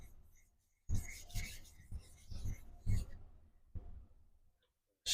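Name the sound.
honing vintage straight razor bevel on stone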